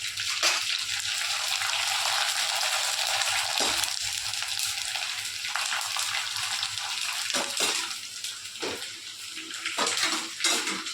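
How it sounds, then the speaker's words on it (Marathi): Kurdai rice wafer crumbs fry in hot oil, a loud, steady broadband sizzle and crackle with brief dips and swells, close and continuous with no talk. "आता आपण इथे कुरड्यांचा भुगा आहे तो पहिले तळून घेऊ."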